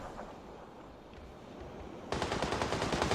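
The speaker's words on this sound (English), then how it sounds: "Billington's putting shots on the Fly." Rapid automatic gunfire in a competitive shooter match, starting after a quieter stretch of game noise and continuing as a dense, loud burst of repeated shots to the end.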